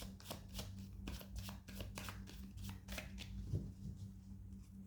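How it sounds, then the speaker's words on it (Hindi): A deck of cards gets a quick riffle shuffle, rapid crisp flutters repeating in bursts, close and fairly quiet, with no talking. "एक और शफल करूंगी. It's a quick shuffle."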